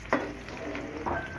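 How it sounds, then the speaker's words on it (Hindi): Onions sizzle and fry in desi ghee in a pan, a steady crackling hiss with a couple of brief stirring scrapes, close and fairly quiet. "ये देसी घी है, देसी घी में ये प्याज डाल के इसको ज़रा ब्राउन कर लेंगे हम"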